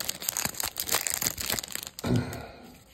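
Crinkling plastic wrapper of a 1983 Topps baseball card rack pack tearing open, close and crisp, with a run of crackles followed by a louder rip near the end; no talking.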